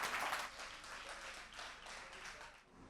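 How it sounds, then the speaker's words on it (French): Applause from a studio audience at a French-language television contest semi-final, a faint brief patter of clapping that fades over a few seconds, with no voices. "Sous vos applaudissements une fois de plus,"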